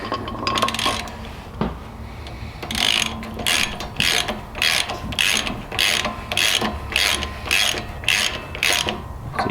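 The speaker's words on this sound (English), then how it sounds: "You want to tighten this top peening nut until the point where the washer underneath can just barely wiggle around." A hand tool ratchets repeatedly while tightening the top peening nut on an upgraded Vanagon brake, giving a steady series of close, sharp clicking bursts with faint metallic handling and no talking.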